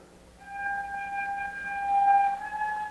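A faint, steady electronic tone holds for a couple of seconds, wavering slightly, the signal of a kerosene delivery vehicle passing through a village, heard from a distance.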